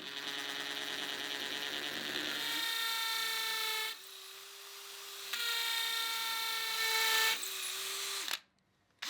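A hammer drill with a 5mm bit whines steadily at high pitch into cement in two long bursts, with a brief drop in between, before cutting off abruptly.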